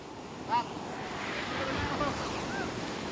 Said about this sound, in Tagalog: Pero yung mga alon, lalaki ng alon, oh.